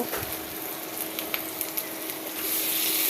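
Ginger paste goes into hot oil in a frying pan while cooking pipul leaf chorchori, a dense sizzle with scattered sharper spits that swells louder toward the end.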